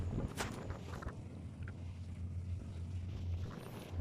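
A boat cruising on the water during an evening boat safari near Trincomalee gives off a low, steady motor drone, with soft wind buffeting and faint water splashes near the start.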